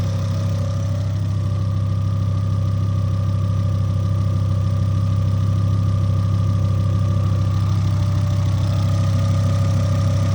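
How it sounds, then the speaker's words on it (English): A 2005 Volvo S40 T5 engine idles with its alternator howling, giving a steady low rumble under a constant whining tone. It stays even and close for the whole stretch, with no talk. "The alternator is howling a little bit"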